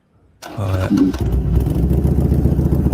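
Engine of a vintage vehicle from around the 1950s or 60s with steel fenders, likely a motorcycle, fires up after a brief silence and settles into a loud, steady low rumble close by.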